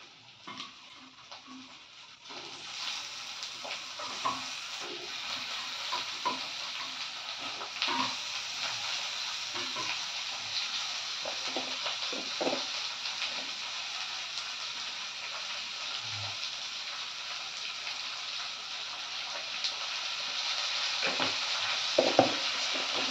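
Potatoes added to softened onions sizzle steadily in a frying pan, with a continuous crackling fry and scattered scrapes and clinks of a spoon stirring, close and moderately loud, no talking.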